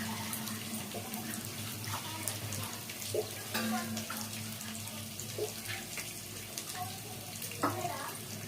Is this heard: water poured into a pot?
yes